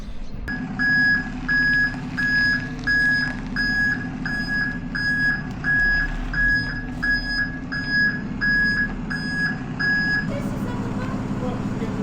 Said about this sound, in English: There's a big lorry coming in the gate.